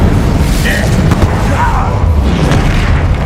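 A fire spell cast in the video game Hogwarts Legacy gives a loud, dense, roaring boom that holds steady for a few seconds, with a voice mixed in.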